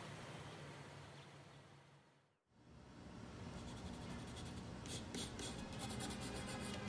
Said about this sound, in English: That's the sound of a graphic artist at work.